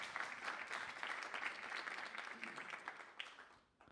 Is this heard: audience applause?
yes